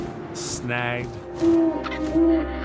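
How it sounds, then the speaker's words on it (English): An owl hoots twice in What Remains of Edith Finch, two short mid-pitched calls rising over steady wind and ambient game sound, with a voice speaking beneath. "and suddenly I was an owl"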